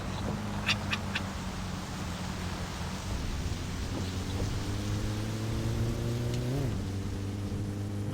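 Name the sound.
rain in a video game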